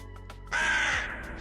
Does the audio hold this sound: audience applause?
no